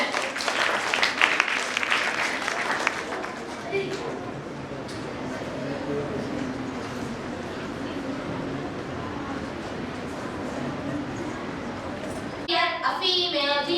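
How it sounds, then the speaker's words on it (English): A school audience applauds a grade 8 song performance at a Republic Day event at Dawn High School, Hyderabad. Dense, sustained clapping fills the hall for most of the stretch, with children's voices chattering underneath. "Please give a huge round of applause for them."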